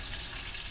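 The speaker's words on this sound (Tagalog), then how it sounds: "tayo po ay magprito ng tilapia" Tilapia fish sizzling in hot oil at a market stall, giving a brief, steady frying hiss with no talking.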